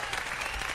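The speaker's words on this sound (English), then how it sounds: "There should be cheers, applause right now on this sound effect" Applause from a crowd, dense and steady, filling a brief burst with no pauses.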